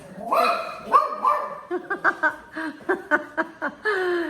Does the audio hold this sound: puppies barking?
yes